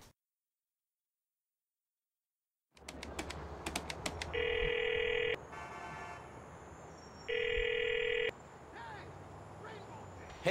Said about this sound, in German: wir gehen mal direkt ans Telefon